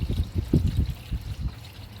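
Water draining from the engine of a free 253 project vehicle, a close, uneven gurgling trickle and splatter, with oil floating on top.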